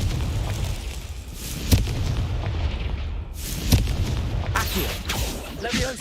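A Confringo spell explodes in the video game Hogwarts Legacy, landing as two loud booming blasts over a dense, rumbling battle backdrop, followed by crackling bursts.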